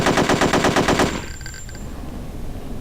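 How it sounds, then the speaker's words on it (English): An AK Kalashnikov machine gun in the game Hitman: Codename 47 fires a rapid, even burst of about ten rounds over one second, loud and close, followed by faint clinking and a quiet tail. "It's a machine gun."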